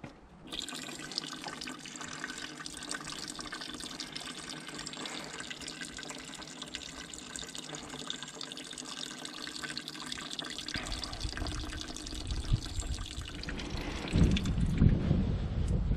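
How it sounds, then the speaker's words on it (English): Coolant draining from the overflow reservoir of a 1998 Suzuki GSXR750 SRAD motorcycle, a steady close trickle and pour that grows louder near the end, with no talk. "Is just drain the overflow reservoir."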